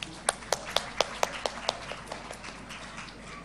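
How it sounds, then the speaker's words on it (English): Clapping at an international conference on holistic health opens as a few loud, distinct claps and slows into a sparse rhythm that fades by the end. "Please welcome such a dynamic speaker with a huge round of applause"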